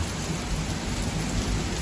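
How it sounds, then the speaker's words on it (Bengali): Heavy rain pours in a dense, unbroken hiss during a thunderstorm, loud and close, with a deep rumbling low end beneath the downpour and no voices. "আল্লাহ এত বৃষ্টি এত তুফান আজকে"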